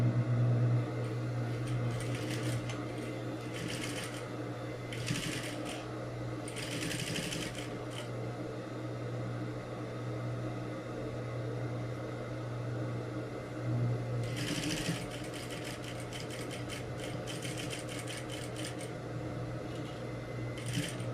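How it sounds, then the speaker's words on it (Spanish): A sewing machine stitches a pocket flap on a tailored jacket, running in several steady bursts of rapid mechanical clatter over a constant motor hum, close and loud, with quieter stretches between runs. "Se va a coser desde este punto hasta acá, por la misma línea que yo ya había cosido el vivo"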